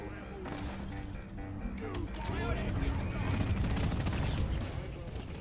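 Weapons firing in the Deep Rock Galactic video game during a mission with fire on screen, a faint, busy mix of rapid shots and crackle running steadily under other game noise.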